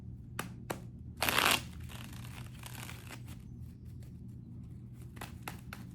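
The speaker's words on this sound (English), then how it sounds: "I'm shuffling these cards." Tarot cards shuffled by hand in a quiet room: a few soft taps, a brief burst of riffling, then scattered light clicks and flicks of cards against a low background hum.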